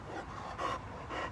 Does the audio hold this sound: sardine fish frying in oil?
no